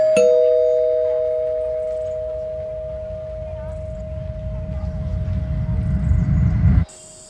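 A doorbell rings once, a bright sustained tone held for several seconds over low room rumble, while someone waits at the door to ask about renting a room.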